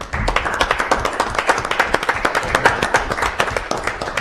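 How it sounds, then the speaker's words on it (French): An audience at a city council meeting in Grande-Rivière claps steadily, a close, lively patter of many hands that keeps up without pause. "Et je pense que ça mérite une bonne main d'applaudissements."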